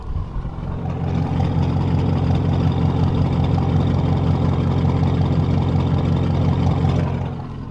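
An Audi RS6 fitted with a new tuned exhaust idles steadily, a deep, loud, rumbling drone that holds evenly for several seconds before easing slightly at the end, with no voices.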